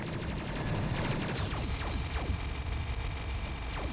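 Sustained gunfire from the Space Crew video game, a dense continuous clatter of rapid shots with sweeping high-pitched zips of weapon fire, steady and loud across the whole stretch with no talk.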